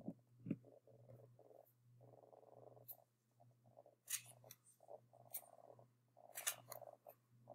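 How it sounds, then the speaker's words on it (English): Scissors cut out a paper handout with a few sharp, separate snips spread through the later seconds, heard alone over a low steady hum in a quiet room. "Okay, so I'm going to cut these out."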